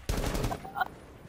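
Pistol shots fired from the hip in a video game come as a quick burst of sharp, punchy reports in about a second, loud and close with a brief ring after, and no talking over them.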